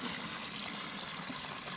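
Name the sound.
water poured into a sunken dog waste digester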